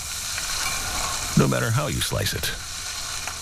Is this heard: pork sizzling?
yes